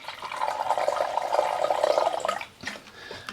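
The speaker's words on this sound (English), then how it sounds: "we are going to just pour in 1 cup worth of water" Water poured from a container into an electric kettle, one cup's worth, a steady close trickling splash for about two and a half seconds before it stops, followed by a few faint knocks.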